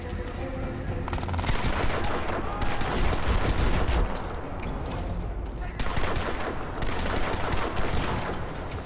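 Rapid gunfire from the shooter game Crysis 2 Remastered, bursts of automatic fire crackling continuously for several seconds with a short lull near the middle, loud and dense.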